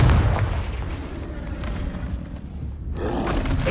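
Confringo fire-blast spell bursting in Hogwarts Legacy, a loud rumbling explosive boom with a dense low roar that sustains, dips briefly, then swells again near the end.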